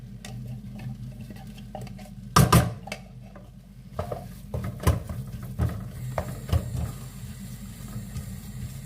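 Ground mint tipped into frying onions in a pan for sweet-and-sour mint chutney, then stirred with a spoon: a loud clatter of utensil on pan followed by irregular scraping and tapping over a steady low sizzle.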